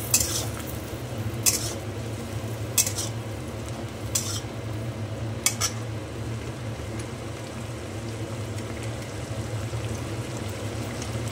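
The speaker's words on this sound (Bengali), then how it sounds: "দেওয়ার পর সামান্য একটু হলুদ দেবো, মিশিয়ে নিচ্ছি" Turmeric is stirred into a fish curry in a pot, with a soft simmering hiss underneath and a few sharp clinks as the utensil taps the pot at regular intervals.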